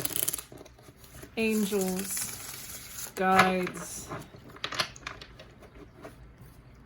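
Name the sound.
shuffling a tarot card deck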